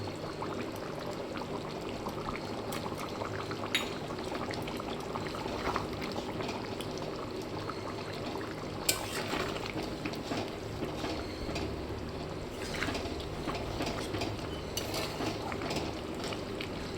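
Mutton kasha simmering and bubbling in a kadai, a steady close-up bubbling and sizzling texture that runs throughout with occasional small pops and clinks.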